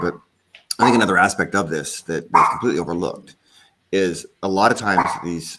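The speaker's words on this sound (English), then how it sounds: "sorry for the dogs here" Dogs bark in the background while someone talks steadily over them, the barking partly buried under the speech.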